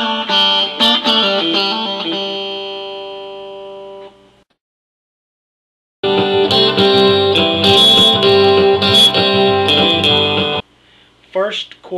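Guitar plays the first chorus section of a song as a lesson example: bright strummed and picked chords ringing out clearly, then a pause of silence before a second, fuller passage of sustained chords.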